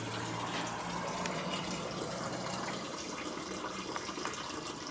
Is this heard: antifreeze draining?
yes